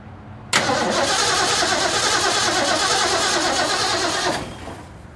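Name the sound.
1966 Mustang engine cranking and starting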